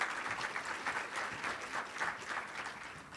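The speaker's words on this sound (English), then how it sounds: "Let's give him a big round of applause." An audience at a 2018 State of the Community event applauds the mayor of Spring Lake, a moderately distant, fairly quiet round of clapping with a gently pulsing rhythm and no talking.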